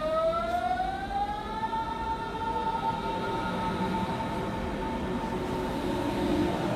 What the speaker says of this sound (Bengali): কিছুক্ষণ পর ঝমঝম শব্দ করে ট্রেন চলতে লাগলো।